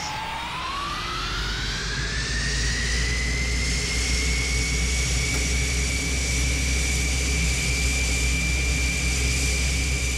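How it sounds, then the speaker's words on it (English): An SR-71A jet engine in a flight simulator spools up, its whine rising steadily in pitch over the first few seconds and then holding as a loud, continuous turbine tone above a deep rumble, with no voices. "And the engine begins to spool up, which you can clearly tell from the noise"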